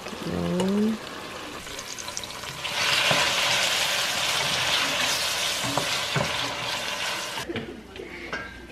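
Eggplant being stir-fried in a pan of leftover oil, with continuous sizzling and scraping stir strokes. A brief voice is heard at the start and the frying quiets near the end.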